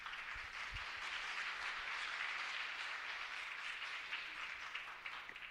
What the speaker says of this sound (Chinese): 我们一起拍手来欢迎他